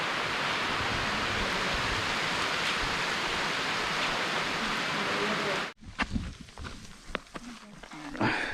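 Steady light rain falling outdoors in Amapá, Brazil, a dense even hiss for most of the stretch before cutting off abruptly, leaving quieter scattered sounds and faint nearby talk.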